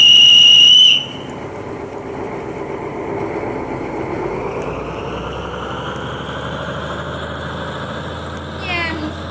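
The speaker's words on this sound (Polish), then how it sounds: "możesz gwizdać." A loud, steady whistle with stacked harmonics is blown once for about a second at the start, then stops abruptly; a long passenger train's rumble and engine hum continue underneath, with a brief scraping chirp near the end.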